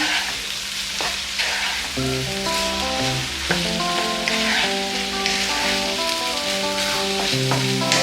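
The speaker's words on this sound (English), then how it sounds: "Vegetable fried rice getting ready." Cooked rice and vegetables frying and being stirred together for vegetable fried rice, giving a loud, continuous close-up sizzle with a rain-like crackle, with tonal music running underneath and no talking.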